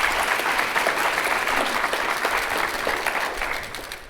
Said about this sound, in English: So we want to give them all one other round of a big round of applause.